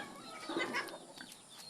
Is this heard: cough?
no